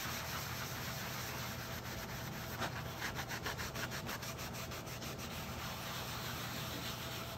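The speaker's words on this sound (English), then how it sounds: "I'm taking a Scotch-Brite pad and I'm going kind of in a circular motion to try to get into the" A Scotch-Brite pad scrubs in circular strokes over grooved interior panels of a cabover truck, a steady close rubbing with a quick rhythmic burst of strokes midway, over a constant background hum.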